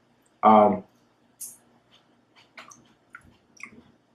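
Crisp, crunchy bites of a mild Jam-Bella pepper are chewed close up, a loud first crunch followed by softer scattered crackles, with a brief breathy sound in between.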